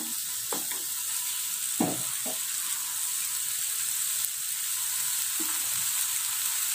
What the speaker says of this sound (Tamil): ஒரு 5 மினிட்ஸ் நம்ம நல்லா வதக்கிக்கலாம்.